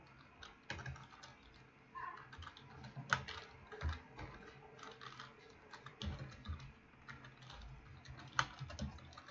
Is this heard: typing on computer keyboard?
yes